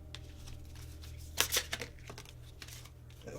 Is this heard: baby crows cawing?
no